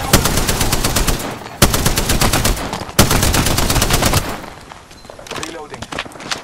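Loud, rapid automatic gunfire from the video game Apex Legends, with sustained bursts broken by brief gaps and sharp restarts, then thinning into scattered shots near the end.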